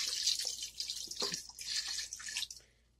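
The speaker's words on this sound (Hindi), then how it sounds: "अब हम इसमें तकरीबन 1 गिलास के करीब पानी डाल देंगे।" Water from a glass is poured into a pot of mutton korma cooking with cashew and coconut, a close, bright splashing pour lasting a few seconds before trailing off.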